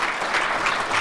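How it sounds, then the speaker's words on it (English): A group applauds for about a second during a Catholic talk show, steady close clapping with no voices over it. "let's clap for that."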